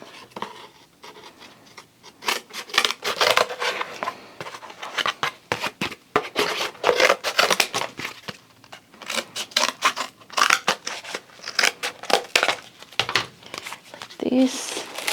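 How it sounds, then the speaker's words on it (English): Scissors snip through paper while a triangle is cut for a tiger piñata's nose, a rapid run of close, crisp cuts and paper crinkles with speech woven in. "For the first one, I will cut a triangle."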